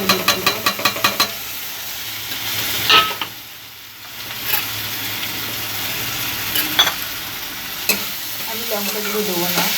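Ground cumin and turmeric sizzle in hot oil in a pan, with a steady frying hiss broken by repeated scraping stirs of a spoon, loud and close, with no voices.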